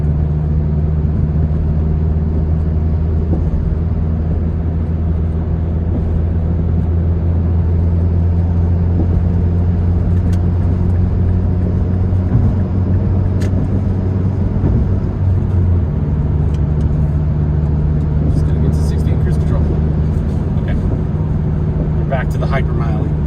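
A MazdaSpeed3 under acceleration, heard from inside as a loud, steady low engine drone with a sustained hum whose pitch shifts partway through, accompanied by continuous road noise while someone talks.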